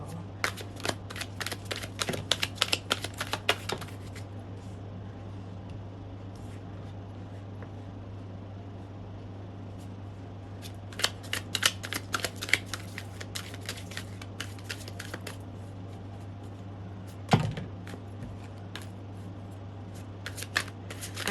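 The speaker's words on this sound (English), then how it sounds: "I'm just going to shuffle one more time so I can get focused." Tarot cards being shuffled in several quick riffling bursts, close to the microphone, separated by quiet pauses, with a steady low hum underneath.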